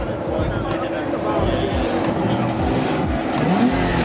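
A Porsche engine revving at an outdoor car meet, a loud, continuous throaty drone that rises in pitch toward the end, with crowd noise and someone talking over it.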